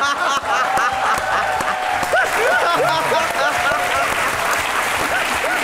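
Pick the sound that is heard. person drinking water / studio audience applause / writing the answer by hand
studio audience applause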